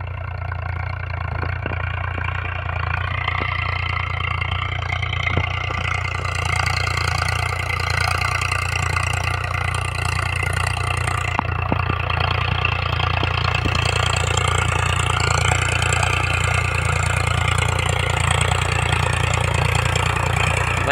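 A Farmtrac 60 tractor working a 10 ft rotavator in a field, its diesel engine droning steadily and loudly throughout with a constant low rumble and no talk.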